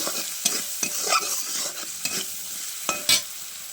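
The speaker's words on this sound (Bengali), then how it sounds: "হলুদ দিয়ে ভালো করে এটা ভেজে নিয়ে আর কি, লাল লাল করে ভেজে নিতে হবে" Potatoes frying with turmeric in a pan, a soft steady sizzle broken by sharp scraping stirs of the spatula at irregular intervals, close by and with no talking.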